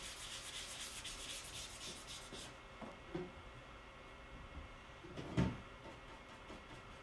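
A clean shop towel rubs chalk-paint wax into furniture, giving a soft, close, steady scrubbing hiss with a few faint knocks and one sharper thump near the end.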